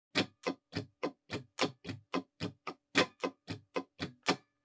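Crisp, muted guitar strumming in a funky sixteenth-note groove, with the accented stroke shifting position across the pattern.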